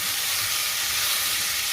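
Onions and beef for tacos sizzle steadily in a hot pan, a loud, constant hiss of frying without any talking.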